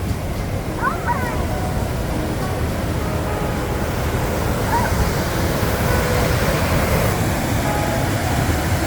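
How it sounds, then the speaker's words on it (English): A waterfall in Michigan's Upper Peninsula in October gives a steady, dense rushing roar that stays constant and fairly loud throughout. "Waterfall that we can get to."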